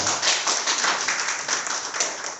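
An audience at an Indonesian investment seminar breaks into sustained clapping, a dense, steady patter of many hands at even loudness throughout with no talking over it.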